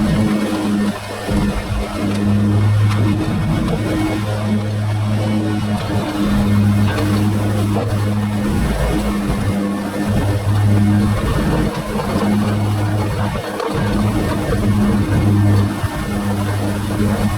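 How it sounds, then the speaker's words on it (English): A riding mower engine, an Exmark Laser Z X Series zero-turn with a 60-inch deck, runs steadily and loudly across residential properties, holding a constant mid-pitched drone with a slight rise and fall in load. "so I'm gonna ride across these properties, and for the most part, an Exmark Laser Z X Series 60-inch deck"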